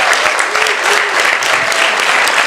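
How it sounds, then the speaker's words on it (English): Steady, dense applause from an audience at a council meeting, many hands clapping together at close range without pause, with no voices standing out. "So a big applause, please."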